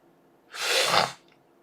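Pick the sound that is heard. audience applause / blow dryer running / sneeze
sneeze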